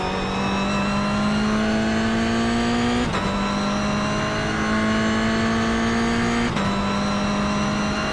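Sim racing game car heavier than a Miata, engine revving hard at a steady high pitch with two abrupt gear shifts causing brief dips, loud and close with no talk.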